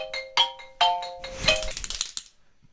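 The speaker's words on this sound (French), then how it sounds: "c'est les sonneries d'iPhone" A bright iPhone ringtone jingle of quick chiming notes, fairly loud, followed by a busier tonal burst that fades out.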